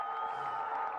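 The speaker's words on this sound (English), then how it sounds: "Crowd going wild at the start and finish." A large crowd of MotoGP fans cheering at the Catalunya circuit, a steady roaring wash of voices, distant and sustained, with no distinct individual shouts.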